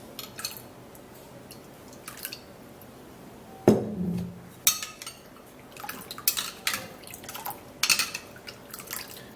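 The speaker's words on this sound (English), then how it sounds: "Now we'll have to be transferring that into the carrot juice." Watermelon juice poured into a container of carrot juice, close drips and trickles broken by glassy clinks and knocks of kitchenware, with no one talking.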